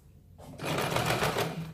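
Sewing machine stitching a katori blouse, a steady rapid whir of stitching that starts after a brief quiet moment and runs close and moderately loud to the end.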